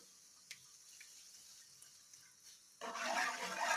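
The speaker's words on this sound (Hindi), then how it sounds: "इसमें ऐड करेंगे आधा कप पानी, गर्म पानी" Half a cup of hot water pours into a spice mixture for Kashmiri sochal, starting abruptly after near-silence as a loud, steady splashing stream that continues to the end.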